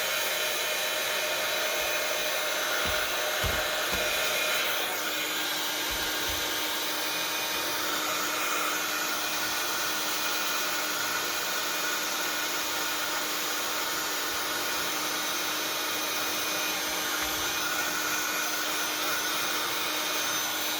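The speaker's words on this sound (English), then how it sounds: "Now, what I need to do is dry the glue. So, excuse me while I dry the glue." A hair dryer blows on thin glue over napkin decoupage, a loud, constant whooshing drone held for the full twenty seconds, with a few faint handling knocks near the start.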